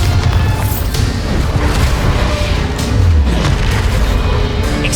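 A Bombarda spell explosion in Hogwarts Legacy, a loud, sustained low rumbling blast with crashing debris, alone and close.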